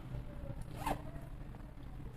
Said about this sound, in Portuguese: Nossa alcinha aqui, que ajuda na hora de fechar e abrir o nosso zíper.